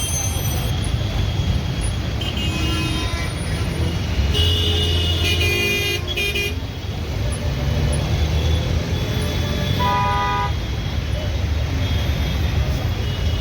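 Heavy road traffic rumbles loudly and steadily near Chandigarh during a strike, with several car horns honking in short bursts and one longer blast partway through.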